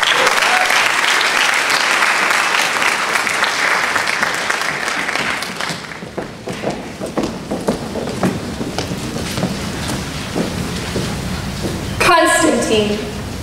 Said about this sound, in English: How about a round of applause for Haley Smith?